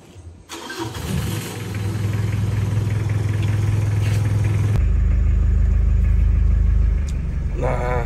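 A Mitsubishi L300 van's engine cranks and catches, then settles into a steady, loud idle with a deep, even rumble heard up close.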